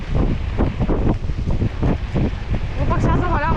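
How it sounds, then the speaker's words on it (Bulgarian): Strong wind buffets the microphone in rough, continuous gusts, a loud low rumble filling the whole clip with muffled voices underneath. "Има много вятър, надявам се да не се чува."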